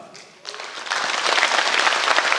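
An audience at a Saemaul Day commemoration ceremony in South Jeolla breaks into applause, which swells after a brief quiet moment into a loud, dense, sustained clapping from a large crowd.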